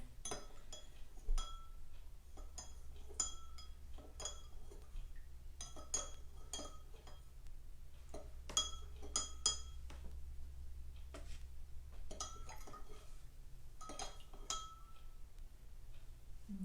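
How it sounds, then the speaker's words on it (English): A utensil stirs an herbal tincture mixture in a container, giving irregular clinks and ticks against the sides in quick clusters with short gaps, fairly close over a low steady hum. "I am going to stir it up here."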